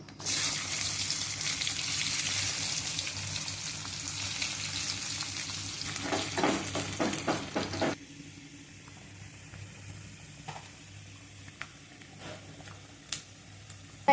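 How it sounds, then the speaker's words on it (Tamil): Mustard seeds temper in hot oil for sambar: a loud, bright sizzle fills the first half, then cuts to a much quieter backdrop dotted with scattered sharp pops and clicks. "தாளிசத்துக்கு கடுகு போட்டுக்கோங்கம்மா"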